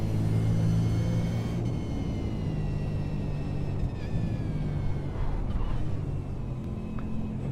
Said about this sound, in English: it's a big torquey V8 this one